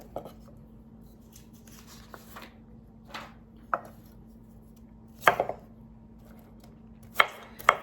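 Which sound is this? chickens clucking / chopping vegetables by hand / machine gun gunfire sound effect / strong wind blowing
chopping vegetables by hand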